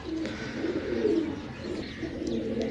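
Pigeons, among them a golden pigeon, coo in soft, continuous rolling murmurs close by, with a few faint higher chirps mixed in and no voices.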